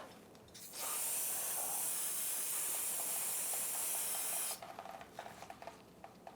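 Aerosol brake cleaner sprays onto a bleeder screw during a rear brake job on a 2012-2018 Nissan Altima, a steady, loud hiss lasting several seconds before cutting off into quiet workshop handling noises.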